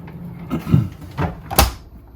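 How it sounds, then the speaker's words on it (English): A freezer drawer in an Alliance Avenue 30RLS RV slides out in a few soft rumbling, bumping pulls, ending in a sharper clack, close up and with no talk. "it has this drawer that comes out for more storage space"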